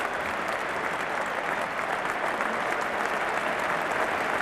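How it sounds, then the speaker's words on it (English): Cricket crowd applauding steadily at the NatWest Trophy final after a boundary, a dense, continuous wash of clapping from a large stadium audience with no talk over it. "This is a round of applause as we've heard today."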